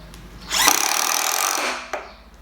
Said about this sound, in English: I'm gonna start with some just normal 30 mil chipboard screws